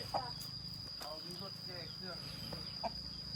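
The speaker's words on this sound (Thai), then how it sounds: "อยู่แบบธรรมชาติเนาะปิ้ง ไก่เรา" Chickens in a garden give a few scattered soft clucks, with insects chirring steadily underneath and people talking quietly nearby.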